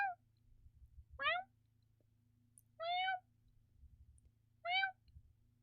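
A person imitates a cat's meow three times, short spaced calls over a quiet low hum, fairly faint.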